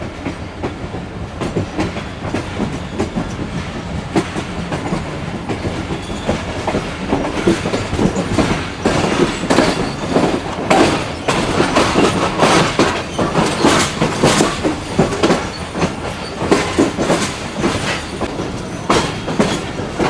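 Karakoram Express of Pakistan Railways, a passenger train hauled by two General Electric locomotives between Karachi and Rohri, rolling close by with steady clickety-clack of wheels over rail joints, rumbling and growing louder, no talking.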